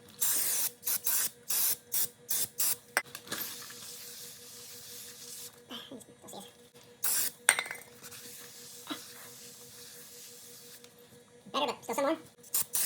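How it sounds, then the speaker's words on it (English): Spray cleaner blasts onto a car flywheel being cleaned before a clutch install on a turbo Cavalier, coming as repeated short hissing bursts with pauses, plus occasional faint clinks and brief talk. "Now we're going to clean up the flywheel."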